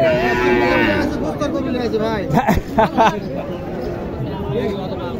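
Sahiwal cattle mooing at the Mataji cattle market in Naogaon district, a loud nearby moo rising over steady crowd chatter, with people talking throughout.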